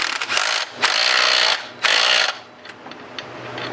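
A socket wrench ratchets loudly in three or four quick bursts, loosening a bolt on a pulley with a puller installed, on a budget Mustang drift car's engine; the clicking is close and separated by short pauses.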